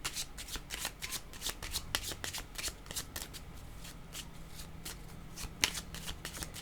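Tarot deck shuffled by hand in a steady run of quick papery riffles and card slaps, close and moderately quiet, with no voices.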